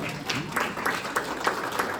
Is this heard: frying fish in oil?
no